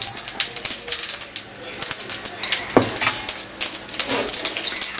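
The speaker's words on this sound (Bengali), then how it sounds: "কড়াইটা বেশ গরম হয়ে গেছে দেখতে পাচ্ছেন, আর জিরেটা ফুটছে" Cumin seeds crackle in a very hot pan of oil for a Bengali home-style country chicken curry. Irregular bursts of popping sizzle, fairly loud and close, are punctuated by utensil clatter.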